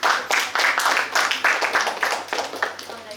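Audience applause after presentations at an ideathon event, a small group clapping in uneven bursts that pulse and fade, fairly close and moderately loud.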